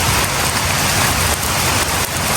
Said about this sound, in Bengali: রহমতের বৃষ্টি আল্লাহ দিচ্ছে আজকে একবারে সব ঠান্ডা